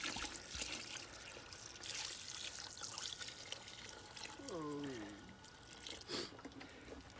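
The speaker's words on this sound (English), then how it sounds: "Now here, all I'm going to do is add water." Water is poured into a pot to make cedar water, a soft continuous trickle and splash heard faintly under background noise, with a brief voice partway through.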